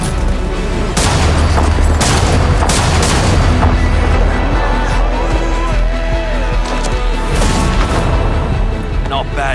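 Gunfire from the Apex Legends trailer mixed into a loud, dense action soundtrack with booms and impacts, several sharp bursts spread across the scene, with a voice speaking briefly over it.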